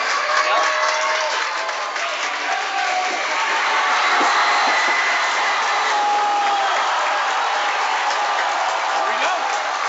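Crowd of Shaperstown fans at an FMH Invitational finals game, cheering and applauding in a continuous, dense roar, with a commentator's voice faintly over it.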